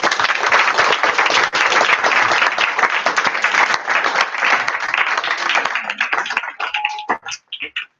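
Warm audience applause honours a guest speaker at a Guru Poornima gathering, many hands clapping densely and evenly before thinning into scattered last claps.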